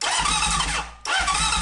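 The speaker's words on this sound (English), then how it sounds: "hooked up my little trigger here to turn the engine over" A Honda CB750 motorcycle engine is cranked over by a starter trigger, giving a steady loud churning drone that cuts out briefly near the end and then resumes.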